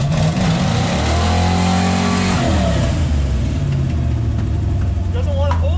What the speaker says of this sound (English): burnout did not go as planned. It's kind of popping and banging.